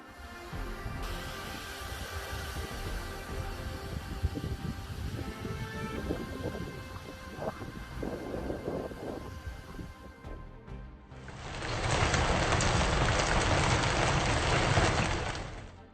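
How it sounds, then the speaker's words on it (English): A loud, dense roar of baseball-sized hail pelting cars, preceded by rumbling storm noise and gusty wind, with no talking. "baseball-sized hailstones, like cold fingers from the heavens, hammered down on cars"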